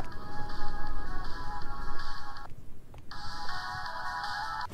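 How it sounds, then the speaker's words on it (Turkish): A phone ringtone in the horror video game The Closing Shift plays a steady electronic ring with a brief pause midway before resuming, moderately loud over a quiet ambient background. "Aa, birinin telefonu."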